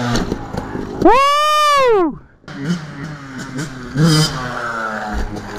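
A motorcycle on jump practice gives one sharp rev that climbs and falls in pitch, then settles into a lower, rougher engine drone while a person shouts nearby.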